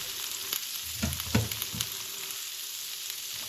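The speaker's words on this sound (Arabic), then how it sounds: "صافي نخليها تشحر معانا." Potato salad ingredients fry quietly in a pan, seasoned with salt and black pepper, giving a soft steady sizzle with a few louder crackles and stirring clatters in the first half.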